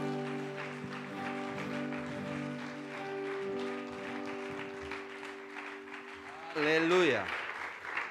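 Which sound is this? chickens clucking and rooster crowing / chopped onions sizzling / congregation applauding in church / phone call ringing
congregation applauding in church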